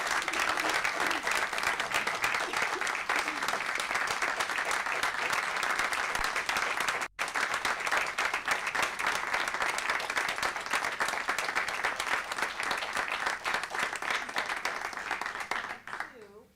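Sustained applause from a city council meeting audience honoring veterans for their service, steady and loud for most of the time with a brief break, then tapering off at the end.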